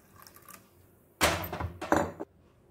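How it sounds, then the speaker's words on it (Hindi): Water is poured in a short splashing burst into a bowl or pot while making pani puri water, lasting about a second with a brief second gush before stopping. "अभी हम 3 कप पानी डाल रहे हैं।"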